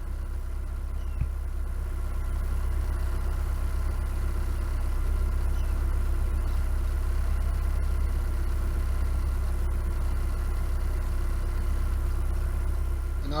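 A small narrowboat, no longer than about 20 feet, idles on the River Lea, its engine giving a steady low hum with no voices over it.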